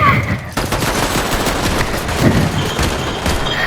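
Rapid gunfire in the Fortnite video game, a steady dense burst of shots running almost continuously at close range, with faint talk underneath.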